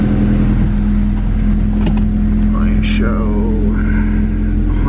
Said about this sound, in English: Some straight piped exhaust.